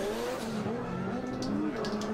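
Race cars, including a Nissan S15, racing at the Croix-en-Ternois circuit, their engines whining and shifting in pitch as they rev, a continuous loud roar heard from trackside.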